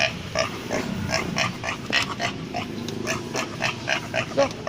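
Pig grunting in a house setting, a string of short, fairly close grunts and snorts repeating at an uneven rhythm over a low, continuous background rumble.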